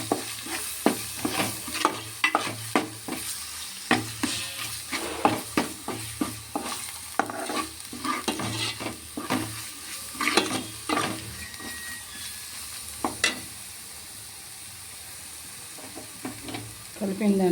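Egg pulusu masala being mixed in a pan with chili powder and salt, a long stretch of quick, rhythmic spoon scrapes over a continuous sizzle, close and fairly loud, with a lull before the stirring resumes.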